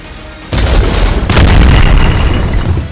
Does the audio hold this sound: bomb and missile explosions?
yes